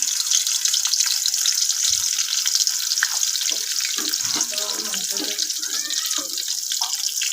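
Chopped onion goes into hot oil in a wok and sizzles with a continuous loud hiss and scattered crackles, close by.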